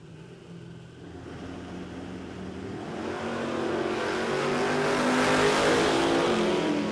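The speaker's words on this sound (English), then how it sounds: "the white Holden Ute up against this beautiful Tirana hatchback of Rob Price." At a drag strip, a white Holden Ute and a hatchback launch and accelerate hard. The engine roar builds steadily louder and rises in pitch as the cars race off, with no talking.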